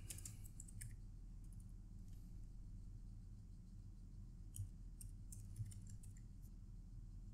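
Typing on a computer keyboard while writing Python code, faint clicky keystrokes in a few quick bursts over a steady low hum, no talk.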